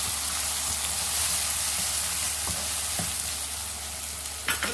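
Chopped tomatoes fry with softened onions in a pan for dal tadka, giving a steady close sizzle with a few light stirring knocks.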